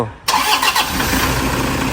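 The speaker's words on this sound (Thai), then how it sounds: "เอาทีมงานไปสตาร์ทเครื่องยนต์หน่อย" A car engine cranks and catches abruptly after a short silence, then runs steadily and loudly at close range. No voices are heard.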